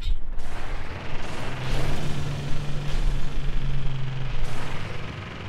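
An exocraft vehicle drives across terrain in the space exploration game No Man's Sky, giving a loud, steady rumbling engine drone with rough, bumpy surges throughout.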